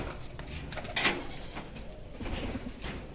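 Domestic and racing pigeons coo softly on a Bangladeshi pigeon farm, with low repeated calls and faint rustling and knocks nearby.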